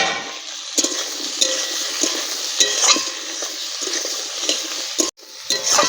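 Chopped onions frying in a pan while making meatless chili chicken, a steady sizzle with intermittent stirring scrapes and clinks of a utensil against the pan, close and alone.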